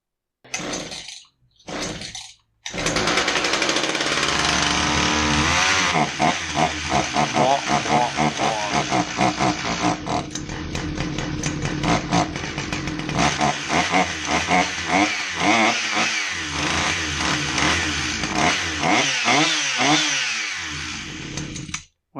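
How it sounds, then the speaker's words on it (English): A Husqvarna 359 chainsaw, just given a carburetor rebuild, starts after a couple of brief pulls and runs loudly up close, idling and blipping its throttle in uneven bursts. "the Husky 359 chainsaw that got a carb rebuild"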